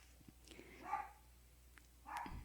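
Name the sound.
dogs barking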